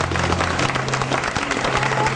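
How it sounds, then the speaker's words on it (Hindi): Crowd applause welcoming a newly chosen village head at a village election in Uttar Pradesh, India: steady, dense clapping from many people throughout, with faint voices mixed in. "करो तालियों से स्वागत।"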